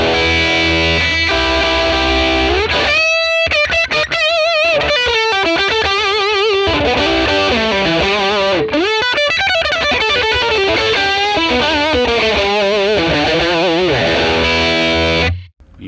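A Les Paul electric guitar played through a 1957 Tweed Bassman amp model, loud and overdriven, with ringing sustained chords and quick melodic runs for about fifteen seconds before a sudden stop.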